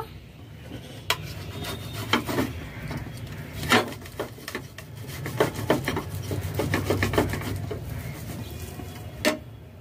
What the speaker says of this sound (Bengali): সিদ্ধ আলু নিয়েছি, গ্রেটারের সাহায্যে গ্রেট করে নেব।